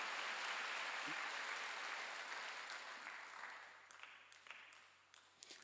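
Church congregation clapping together during a Wednesday worship service, a broad sustained wash of applause that gradually thins into scattered claps and fades out.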